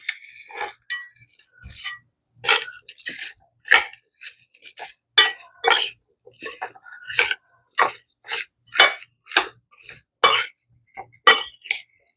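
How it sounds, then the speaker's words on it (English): Waldorf salad being stirred in a bowl, with a run of short, fairly close clinks and scrapes of the utensil against the bowl coming in an uneven rhythm. "let's just stir this up"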